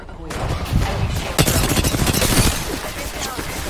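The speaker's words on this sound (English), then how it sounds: "Listen up, I'm getting shot at." Rapid gunfire in Apex Legends rattles in close, loud bursts of overlapping shots, with a heavy blast partway through and a voice speaking beneath the shooting.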